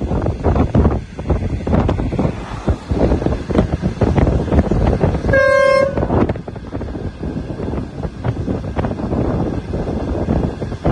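A train on the Chengdu-Kunming railway approaches Ebian station with a steady, loud rumble and buffeting wind noise, and a single short horn blast sounds midway.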